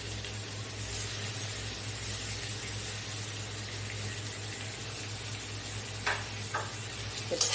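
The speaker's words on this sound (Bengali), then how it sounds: "ক্যাপসিকাম আমার পেঁয়াজের সঙ্গে হালকা হালকা ভাজা হয়ে এসছে" Chopped capsicum and onion frying together in a pan for a chicken burger, a steady soft sizzle with a low hum beneath and a few brief stirring scrapes near the end.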